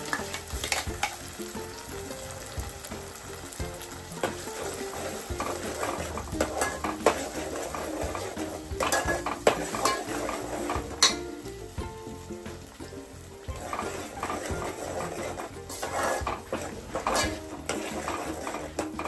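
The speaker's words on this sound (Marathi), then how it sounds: "चांगल्यापैकी ढवळून घ्यायचं." Masala paste is stirred in a frying pan for a home-style fish thali, giving continuous sizzling with scraping and clinking of a spoon against the pan throughout.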